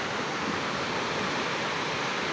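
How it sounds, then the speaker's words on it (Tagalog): Steady rushing of the Kulakog River flowing at Sitio Colacog, Ragay, a continuous broadband wash of moving water with no pauses, close and fairly loud, with no voices over it. "ito na yung Kulakog River"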